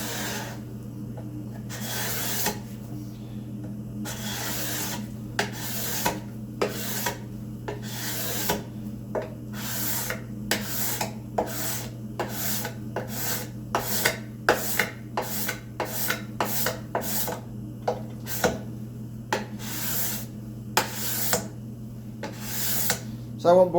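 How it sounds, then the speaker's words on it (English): A cabinet scraper is drawn over the wood of a handmade spice rack in repeated sharp, rasping strokes against a steady low hum, spaced apart at first and then coming faster and closer together. "I'll use the scraper then to clean everything off."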